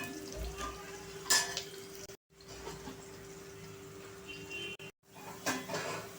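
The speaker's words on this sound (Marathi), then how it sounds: "कांदा आपण छान असा लालसर करून घ्यायचा आहे" Onion fries in a pan toward reddish brown, a quiet sizzle with occasional clinks and stirring scrapes and brief cuts to silence.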